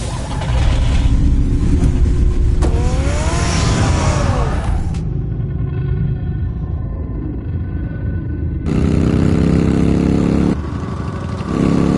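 A car engine hums and revs in Batman: The Telltale Series, a loud steady drone with a rising whine partway through and a brief drop before the motor surges back.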